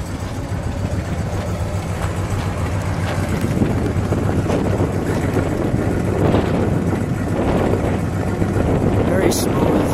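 A 1968 Imperial convertible with a 440 V8 runs close by, giving a loud, steady, smooth engine rumble throughout with a faint swell partway through. People talk over it at times.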